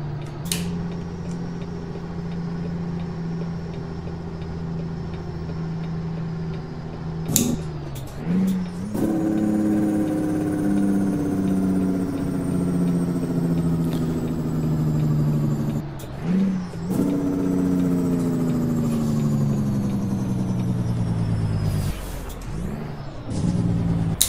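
A truck in American Truck Simulator drives out through Fargo, North Dakota, its steady engine drone loud and close, with pitch dips at several gear shifts as it picks up speed.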